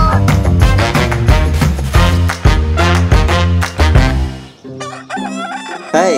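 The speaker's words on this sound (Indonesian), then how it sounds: "suara kokok ayam jantan bisa membangunkan kita dari tidur" A rooster crows loudly several times in a row, with dense, bright music playing underneath before it cuts out near the end.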